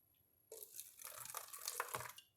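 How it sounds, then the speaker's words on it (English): Warm water is poured into a thin plastic water bottle, a brief splashy stream lasting under two seconds, close and fairly quiet. "So what you're going to need is a little bit of warm water."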